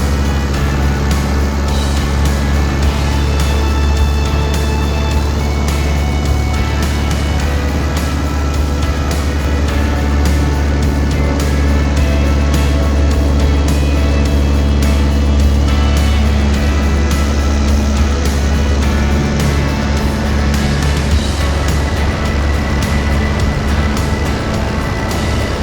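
Van's RV6 light airplane engine running at full power, a loud steady droning roar with strong low harmonics sustained throughout the takeoff roll on a grass runway, with no voices.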